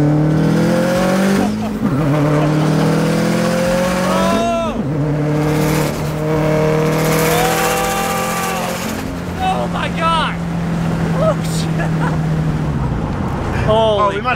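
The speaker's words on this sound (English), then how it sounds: "I think we might have spun all the wheels." A Subaru WRX fitted with equal length headers revs hard under heavy acceleration, its engine note climbing and falling through several rising sweeps as the wheels spin, loud and close with people talking over it.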